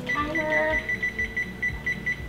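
A kitchen timer on a cake-baking counter beeps in a steady series of short, evenly spaced electronic tones while it is being set, with faint background sounds beneath.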